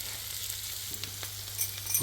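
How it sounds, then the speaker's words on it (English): New potatoes and pancetta sizzle steadily in a hot pan, a close continuous frying hiss with a few faint clinks near the end. "Let's saute that."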